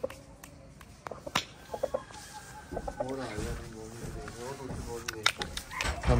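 Breeder Shamo chickens cluck in short, uneven bursts nearby, with a person talking over them and some handling noise in the background.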